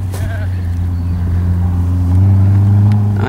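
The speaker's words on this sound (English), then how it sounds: "Watch this wheel spin" A rally car's engine revs hard and close, its tone climbing steadily as the throttle opens, one loud continuous roar from start to finish.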